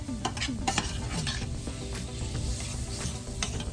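Vegetables frying in butter in a pan: a constant close sizzle with scraping stirs and light clinks throughout, no voices.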